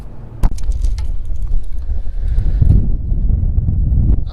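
Gusty wind buffets the microphone out on open water at the start of a boat season, a low rumbling roar that swells and ebbs throughout with a sharp knock near the start.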